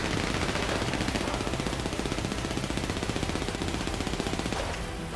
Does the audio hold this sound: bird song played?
no